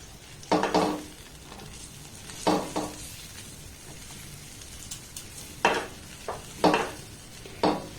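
Atap rice flour being stirred into hot boiling water in a pot, heard as a few separate bursts of scraping and stirring with quieter gaps between them, close and fairly soft.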